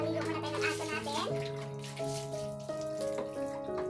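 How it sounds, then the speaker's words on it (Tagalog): Running water pours and splashes steadily throughout while a dog is bathed, with a voice speaking or singing over it close by. "So, maligo muna tayo ng aso natin."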